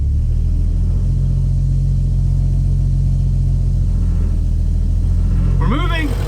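An old 300,000-mile farm truck's engine rumbling close and loud as the clutch engages and it pulls away, a low steady drone with slight rising pitch, and a voice speaking over it near the end.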